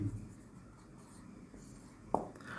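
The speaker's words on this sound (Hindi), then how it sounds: "चलिए चंद्रमुखी ही लिख लेते हैं।" Writing on a board during a Hindi grammar lesson gives faint, close scratching strokes, ending in one sharper tap-like stroke near the end, with no voice heard.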